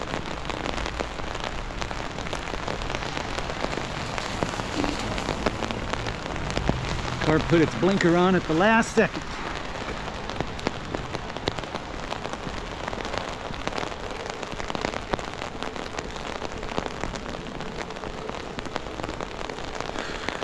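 Steady rain patters on the ground during an outdoor walk on a mild, wet day, a continuous wash of drops with a voice speaking briefly near the middle.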